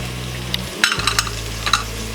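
Cauliflower, beans and other vegetables stirred and frying in a pan for an aloo pulao, with a steady sizzle under scattered metallic scrapes and clinks of the spoon against the pan.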